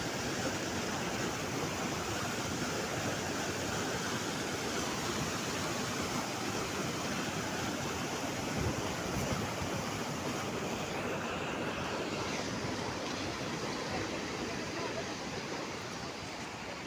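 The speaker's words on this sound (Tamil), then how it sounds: "கடல் மாதிரி போகுது பாருங்களா தண்ணி." Broad, steady rush of water surging like the sea past a village fishing spot, a dense roaring wash with wind noise, unbroken and even for the whole stretch.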